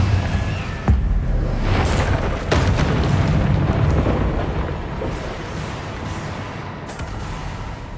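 Confringo spell explosions in the video game Hogwarts Legacy, heavy booming blasts with sharp onsets around one, two and a half, and seven seconds over a rumbling roar of combat effects, loud and continuous.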